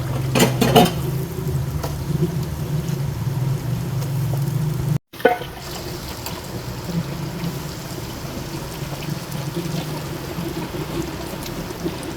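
Marinated chicken being fried over high heat in a pot for chicken karahi, with a steady loud sizzle throughout, sharp clatter at the start and a brief break midway.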